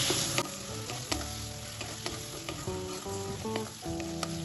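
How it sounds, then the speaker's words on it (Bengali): Ground spices including cumin, black pepper and turmeric fry in oil while being stirred, producing a close crackling sizzle broken by repeated sharp clinks and scrapes of a utensil against the pan. "সব মশলাগুলো তেলের সাথে ভালো করে কষিয়ে দিলাম।"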